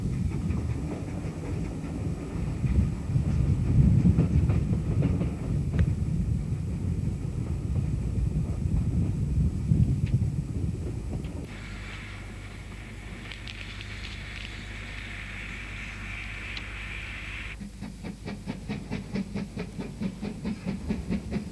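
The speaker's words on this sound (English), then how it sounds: "Loco number 1618 is one of the 4 preserved survivors of Maunsell's U-class." Southern Railway Maunsell U-class steam locomotive number 1618, built 1928, rumbling and chuffing with steady mechanical clatter and hiss, then a shift to a quieter rolling clickety-clack of wheels on rails.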